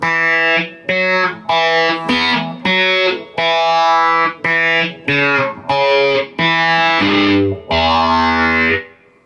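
A heavily distorted electric guitar plays a riff, short chugging chords separated by brief silences, ending on one longer ringing chord.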